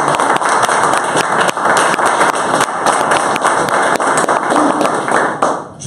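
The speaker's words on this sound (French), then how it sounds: "Oui, vous pouvez applaudir." Loud, dense applause from a rally audience at a first-anniversary event of Cabral Libii's 11 millions movement. It keeps a steady wash of claps with sharp scattered hits and fades near the end.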